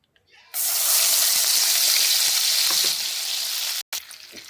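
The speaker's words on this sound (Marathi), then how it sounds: "हा मसाला चांगला तेलामध्ये फ्राय करून घ्यायचा आहे" Ground masala dropped into two spoons of hot oil for a spicy fish curry, bursting into a loud, steady broadband sizzle that holds strong, eases slightly near the end, and cuts out briefly before resuming.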